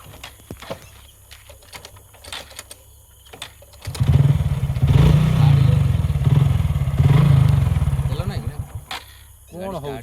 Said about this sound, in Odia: ଗାଡ଼ି ଷ୍ଟାର୍ଟ ହେଉଛି